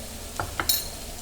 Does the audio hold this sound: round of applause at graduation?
no